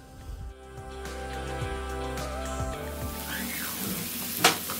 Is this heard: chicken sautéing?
yes